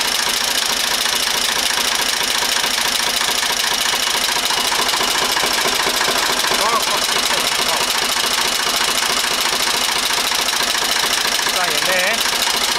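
A car engine idles with its lights off while the alternator is tested, giving a steady, rapid mechanical rumble and ticking that runs continuously, close and loud, with voices faintly underneath.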